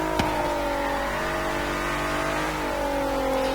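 A Bentley EXP 10 Speed 6 concept in Forza Horizon 3 holds a steady engine drone with shifting tones, rising and easing through a brief shift, loud and continuous on a racing track with no other sounds over it.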